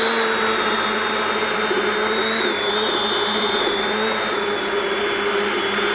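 A Neptune machine runs after compost has been mixed, a loud, steady motor whine with a high, even hum holding throughout, no talking over it.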